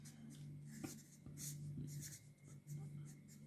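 Pen scratching on paper while fractions are written out by hand, soft intermittent strokes heard close under a steady hum and occasional quiet speech.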